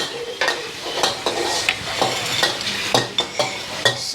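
Chicken with basil stir-fries in a hot pan during a Thai cooking class in Chiang Mai: steady sizzling broken by rhythmic scraping and clanking of a utensil against the pan, loud and close, without speech.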